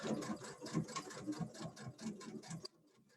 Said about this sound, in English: Twin needle quilting.